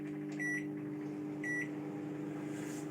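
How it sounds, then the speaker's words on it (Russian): A microwave oven heating instant noodles hums steadily with a droning whir, with two short electronic beeps near the start, fairly faint and without speech. "Вот эту я ставлю в микроволновку. Тоже на пару минут."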